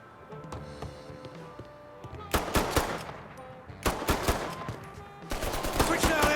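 Gunfire in the Mafia 3 video game: loud bursts of rapid automatic shots and sharp single cracks in clusters, with pauses between volleys over a low background music bed.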